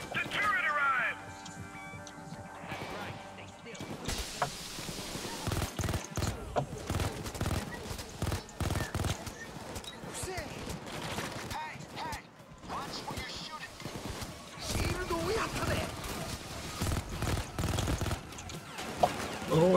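An automated sentry turret fires in the heist game Payday 2, with rapid bursts of gunfire that come and go over about twenty seconds amid game noise and players talking.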